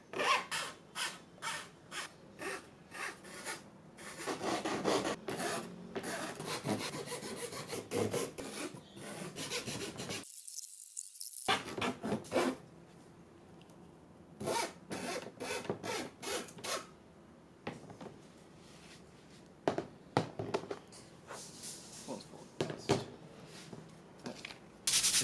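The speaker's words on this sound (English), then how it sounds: "just as I was doing all this sanding and filing" Rhythmic scraping of sanding and filing on an MDF board, repeated rasping strokes with short pauses, close and fairly loud, with a brief silent gap midway.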